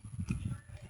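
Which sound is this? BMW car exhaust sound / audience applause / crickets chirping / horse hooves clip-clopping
horse hooves clip-clopping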